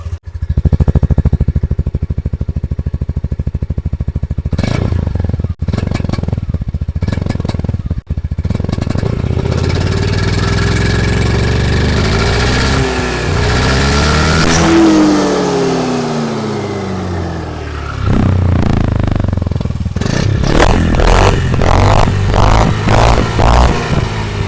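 Yamaha Aerox 155 scooter engine running and revving, loud and close throughout, with rising and falling rev sweeps in the middle and a burst of quick throttle blips near the end.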